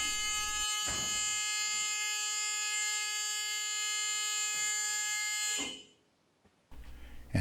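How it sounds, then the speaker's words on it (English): A loud, steady electronic bus emergency exit buzzer drones for several seconds with a few clunks, then cuts off abruptly, leaving near silence before some handling noise. "along with the buzzer sounding."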